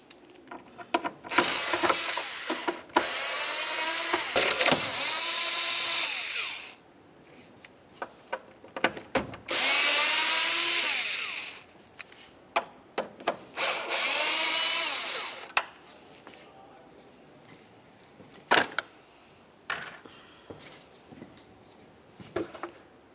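A cordless power tool spins out T30 screws on a 2004–2010 BMW X3 during alternator replacement: four rising whirring bursts of a few seconds each, separated by clicks and clattering handling noises, close up.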